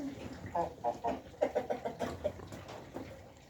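Young chickens hatched in April cluck in a run of short, bursting calls, some overlapping, at moderate distance over a low background hum, with no speech.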